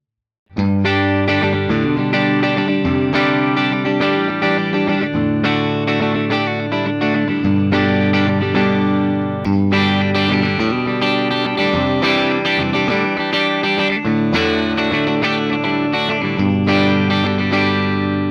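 A 1986 Gibson Les Paul Custom electric guitar in pewter finish plays a dense run of strummed chords and riffs through distortion, chorus and echo effects, loud and continuous with no talking.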